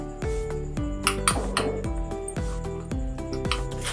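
A spoon clinks steadily against a bowl while garlic butter with chili flakes, oregano and chopped green coriander is stirred, giving bright, ringing taps in a quick, regular rhythm, close and clear.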